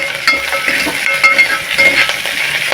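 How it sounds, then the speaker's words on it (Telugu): Spices tempering in hot oil for rasam, a steady close sizzle and crackle with small pops and faint utensil clinks, no voices. "ఇప్పుడు తాలింపులు వేసుకుందాం"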